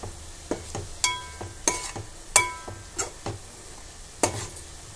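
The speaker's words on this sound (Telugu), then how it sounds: "సో దీన్ని లో ఫ్లేమ్లో పెట్టి మిక్స్ చేయాలి" Ground paste and green chillies stirred in a pan on low flame for fish curry, with a spoon scraping and knocking in irregular strokes over a soft, steady sizzle.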